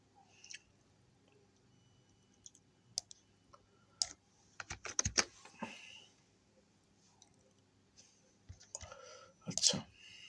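Clicks and keystrokes on a computer keyboard while searching for logo design contests, a few scattered taps early on, then a denser cluster of typing and clicks midway and another burst near the end, fairly quiet throughout.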